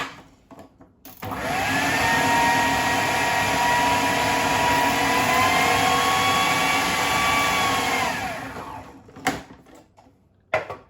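Food processor whirring loudly and steadily for about seven seconds as it blitzes wild garlic and parmesan into pesto, with clunks and handling noises before and after the run.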